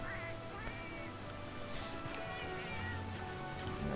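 Meowing from a cat companion in the Monster Hunter Portable 3rd video game, several short high cries scattered over busy in-game music and effects, moderately loud.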